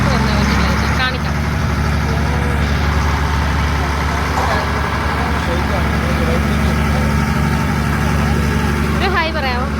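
A boat engine runs loud and steady near Alappuzha during a wedding outing, a constant low rumble throughout with voices mixed in.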